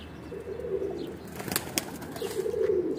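Pigeons kept by a fancier, with soft low cooing and a couple of sharp wing flaps in the middle, fairly close and otherwise alone.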